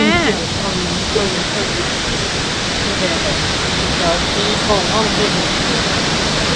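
Namkat waterfall in Oudomxay, Laos pours in a loud, unbroken broadband roar of falling water, with voices faintly audible beneath the rush.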